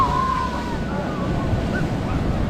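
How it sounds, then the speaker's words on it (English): Ocean waves surge at high tide on a Fraser Island beach, a steady broad wash of surf with wind buffeting the microphone, with no break in the noise. "That is much bigger waves than we were last time."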